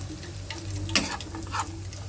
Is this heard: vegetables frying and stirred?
yes